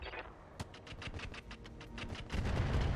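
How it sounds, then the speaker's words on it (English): Artillery fire from mechs in the video game RogueTech lands as a rapid string of sharp booming bursts, with heavier rumbling shots building near the end. "we're going to, of course, fire these in artillery mode"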